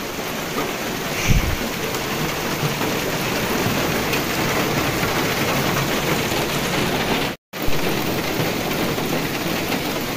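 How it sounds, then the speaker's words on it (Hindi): Heavy rain pours steadily in a dense, constant hiss, with a brief low rumble early on and a momentary cutout near the end. "देखिए बाहर कितनी बारिश लगी है।"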